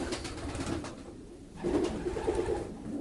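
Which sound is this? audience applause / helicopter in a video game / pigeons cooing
pigeons cooing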